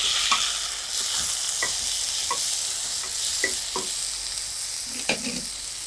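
Potatoes sizzle in a hot pan for red poha aval bath while a spoon scrapes and stirs in repeated close strokes over a steady frying hiss.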